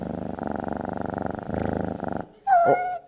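A cat sound effect for a comedy show's time limit, made of a rhythmic purring or growling pulse for about two seconds, then a short, loud rising and falling meow-like cry.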